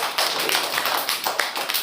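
Children clap their hands together in a classroom, a dense, steady patter of many overlapping claps lasting a couple of seconds, with no talk over it.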